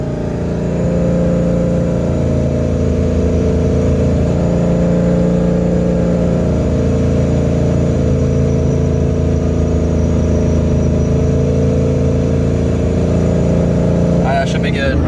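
Paxton-supercharged Mustang cruising at steady speed, a loud continuous engine drone with a faint high whine from the supercharger sitting under it, and a brief clatter at the very end.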